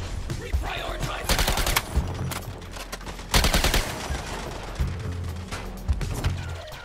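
Gunfire in the video game Suicide Squad Kill the Justice League: loud, rapid bursts of automatic fire crackling in clusters, mixed with other game effects and some voices.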